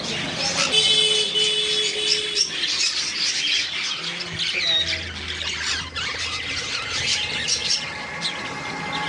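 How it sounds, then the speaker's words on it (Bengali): Shrill, repeated squawks and screeches from a pair of sun conure parrots ring out among other chirping birds, with voices and background bustle throughout. "এখানে আছে সানকনুর সানকনুর এই দুটো পাখি জোড়া আছে"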